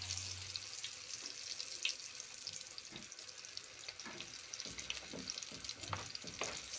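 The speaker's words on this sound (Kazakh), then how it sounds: "Мынау міне жұмыртқаға салып, майға қуырып, екі бетін пісіріп жатырмын." Eggplant slices dipped in egg fry in oil with a soft, continuous sizzle and faint stirring or utensil clicks. The frying is fairly quiet and nobody speaks.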